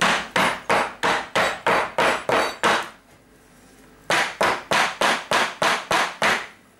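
A soap mold is banged down repeatedly on a surface: loud, sharp, evenly spaced knocks, about eight in a quick steady rhythm, a brief pause, then another similar run, close and with no talking.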